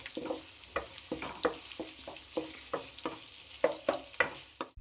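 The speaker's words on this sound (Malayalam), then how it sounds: "ഒരു മീഡിയം ഫ്ലെയിമിൽ വെച്ച് കൊടുത്തുകൊണ്ട് ഇതെല്ലാം കൂടെ നമുക്ക് നല്ലപോലെ ഒന്ന് മൂപ്പിച്ചെടുക്കണം." Crushed ginger, garlic, green chilli and curry leaves sauté over a medium flame for a crab roast, a quiet sizzle beneath a regular rhythm of spoon scrapes and taps against the pan, about two a second.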